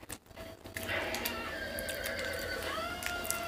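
A horse neighs in a long, loud whinny with clopping hoof stomps underneath, close and clear, lasting a few seconds.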